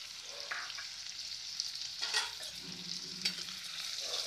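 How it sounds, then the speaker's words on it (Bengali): Chopped onions with salt and sugar fry in a pan, giving a steady bright sizzle with occasional stirring scrapes and spatula clicks. No one speaks. "এবার ভেজে নেব পেঁয়াজটা।"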